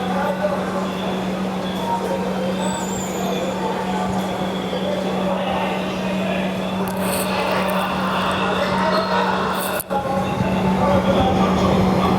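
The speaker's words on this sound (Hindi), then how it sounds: "मात्र 1 मिनट की देरी से 2:31 पर हमारी ट्रेन निकल चुकी है गोंदिया जंक्शन से।" Aboard the Vidarbha Express, train 12106, as it pulls out of Gondia Junction: a loud, steady rolling rumble with a constant low hum runs throughout, and a brief clank comes near the end.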